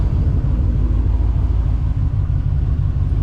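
An OBS Chevrolet Suburban engine idles with its new exhaust, a deep steady rumble heard close and loud throughout, with no talking.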